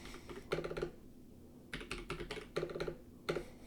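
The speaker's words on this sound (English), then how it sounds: "Sorry, having a hard time typing." Fingers type on a computer keyboard in four short bursts of quick, clicking keystrokes separated by brief pauses, close and fairly quiet, with no talking.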